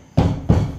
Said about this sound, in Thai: ลองกระทืบใหม่ดู